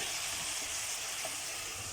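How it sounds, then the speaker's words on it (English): Butter melting in a pan on a home stovetop, a steady close hiss and sizzle that holds even and constant throughout, with no talking. "So our butter is melting up in there."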